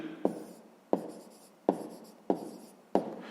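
A pen writing by hand on paper during a fifth-grade maths exercise, heard up close as five distinct scratchy strokes, each starting sharply and fading, spaced evenly about every two-thirds of a second, with no voices.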